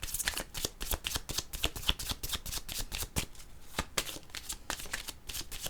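Tarot cards being shuffled by hand, a quick run of crisp riffling flicks and soft slaps close up, irregular but continuous, with no talking.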